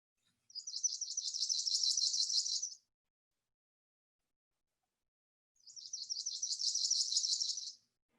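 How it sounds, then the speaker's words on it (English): Palm warbler song, spotted in a backyard in early May: two clear, rapid trilled phrases of about two seconds each, separated by a pause, bright and alone without talk. "This particular bird is a palm warbler."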